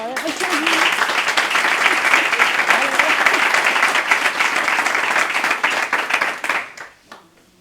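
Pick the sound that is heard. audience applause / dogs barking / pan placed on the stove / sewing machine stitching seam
audience applause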